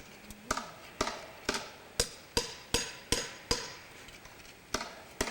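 Carpenters working on an old mill restoration hammer in a steady series of sharp, fairly close strikes, about nine blows roughly evenly spaced with brief ringing decay, no voices.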